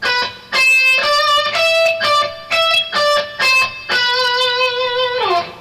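A guitarist plays a distorted rock guitar lick with string crossing, a sequence of separate, clearly articulated sustained notes in a stop-start rhythm ending in a downward bend.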